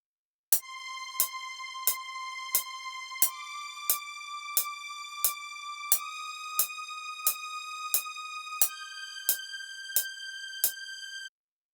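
A dry string patch from a Yamaha S80 synthesizer plays a steady melody of evenly spaced, sharply attacked notes, about fifteen in a row, bright and upfront with no effects, alone without talk.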